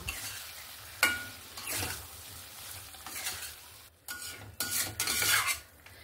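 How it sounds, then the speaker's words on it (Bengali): Drumsticks and potatoes being stirred into fried masala in oil in a pan, irregular bursts of scraping and sizzling as the spoon moves, fading between strokes, fairly quiet. "যে সজনে ডাঁটা আর আলুটা এখানে দিয়ে দেব, দিয়ে মশলার সঙ্গে ভালো করে মিক্স করে নেব।"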